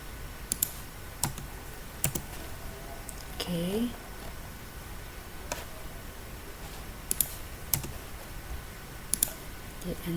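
Computer keyboard in use on a Microsoft Word document, sparse sharp key clicks and presses spaced through the clip, quiet and close, with a brief voice partway in.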